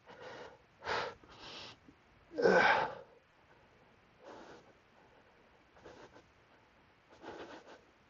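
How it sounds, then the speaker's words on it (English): Heavy, loud breaths during an exercise workout come close to the mic in uneven bursts of sharp inhales and forceful exhales, one blast much louder than the rest, with quiet gaps between. "I know I'm breathing really loud"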